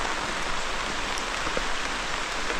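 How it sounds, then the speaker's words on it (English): Heavy rain comes down steadily at a tent camp on abandoned coal mine land, a dense, even patter and hiss filling the whole stretch with no voices. "it's coming down a little heavier now."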